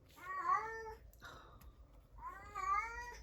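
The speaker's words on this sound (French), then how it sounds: "mon chat vient vous montrer qu'elle est en chaleur" A female cat in heat yowls in two long, loud, drawn-out wailing calls close to the microphone, with a brief quieter gap between them.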